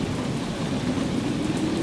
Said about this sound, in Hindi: अचानक मौसम ने करवट ली। भारी बारिश,